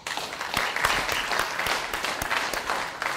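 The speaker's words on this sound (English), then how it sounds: "Let's clap it up for that." A crowd applauds steadily, dense clapping with a few sharper claps standing out, filling the whole stretch without pause.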